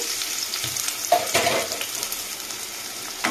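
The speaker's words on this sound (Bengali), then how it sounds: "আমি এবার পেঁয়াজগুলো দিয়ে দিলাম তেলের মধ্যে" Onions dropped into hot oil sizzle steadily and close up, with a few soft stirring scrapes in the pan and no talk.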